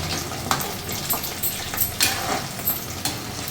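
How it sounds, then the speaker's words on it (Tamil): Sweet peanut dumplings (suzhiyam) fry in hot oil with a continuous crackling sizzle, close and fairly loud, broken by light stirring scrapes. "இப்போ நம்மளுக்கு சூப்பராக சுழியாக வெந்துக்கிட்டு இருக்கு பாருங்கள்"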